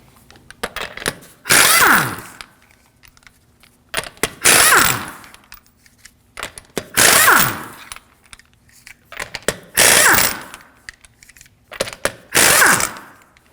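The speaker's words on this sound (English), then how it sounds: "To remove the wheels, we're going to be using a 19mm socket." A power tool spins off the wheel lug nuts on a 2013-2015 Subaru XV Crosstrek with a 19mm socket, giving five loud whirring bursts in a steady rhythm with quiet clinks between them.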